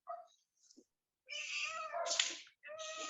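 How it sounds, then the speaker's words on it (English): A cat meows repeatedly and clearly up close, a couple of short chirps followed by long drawn-out meows, with quiet gaps between them. "I love your cat."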